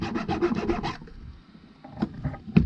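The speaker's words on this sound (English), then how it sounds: "get as much off with the nippers, but then just sand it down" Sandpaper rasps against a 3D-printed part to strip away the leftover raft, with about seven quick, even back-and-forth strokes up close, then a pause broken by a few slower, scattered scrapes.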